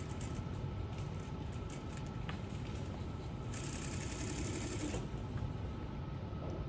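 A sewing machine stitches sleeve pleats in a quiet room, a faint, fast, steady mechanical chatter running throughout with a few brief higher clicks.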